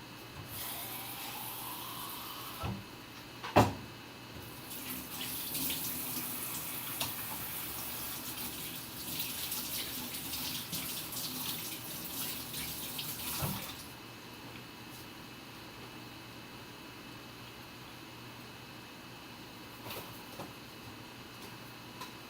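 Water runs steadily from a tap into a sink for about ten seconds, a bright continuous rush that starts after a sharp click and stops abruptly, followed by quiet room tone.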